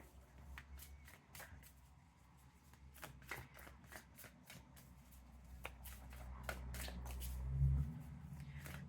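Close, quiet shuffling of a tarot deck, with a run of soft riffling flicks and card slaps in an irregular rhythm and a few light handling thumps near the end.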